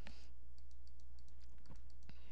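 A computer mouse clicks on a Windows desktop, a quick scatter of roughly a dozen light, close clicks in small pairs and runs, with a couple of faint thumps against a steady low hum.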